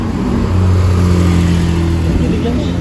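A Porsche GT3 RS engine on a street in Monaco, a loud, steady droning rev that holds a sustained tone for a couple of seconds, heard up close.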